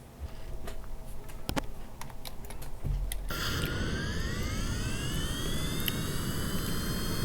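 Jet aircraft engine in the Kerbal Space Program game spools up at launch, a sudden loud roar after a quieter start with rising whine tones sweeping upward and holding steady to the end.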